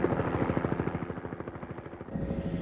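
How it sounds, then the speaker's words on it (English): Helicopter ferrying heli-rafting passengers between Terrace and Prince Rupert, a loud, close rotor thump beating in rapid, steady rhythm that swells slightly near the end. "A helicopter picks you up and takes you on a scenic 10 to 12 minute ride to the top of the river."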